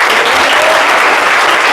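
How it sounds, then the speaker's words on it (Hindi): A room full of students claps loudly and continuously in a dense, even wash of applause at an evening class on a residential coaching campus. "ताली बजाइए लोग"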